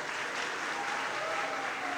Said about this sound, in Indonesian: Torang berikan tepuk tangan dulu untuk kedua Kepsek.